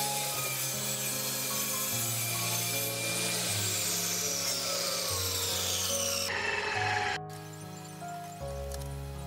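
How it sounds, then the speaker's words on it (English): Panel material for a homemade exhaust fan being cut with a tool, a continuous rasping, rubbing saw sound that runs steadily and close before shifting tone near the end. "Then cut the panel material."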